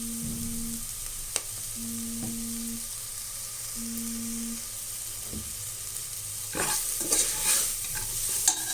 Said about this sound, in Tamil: இது இந்த எண்ணெயிலே கொஞ்சம் லைட்டாக வதங்கணும்